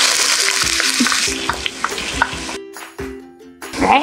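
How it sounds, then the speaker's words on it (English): Onion and garlic sautéing in hot oil at medium heat for a plant-based one-pot pasta, a steady close crackling sizzle with small pops and stirring, and a brief spoken word. "now that the oil is hot, we can saute our onion and garlic"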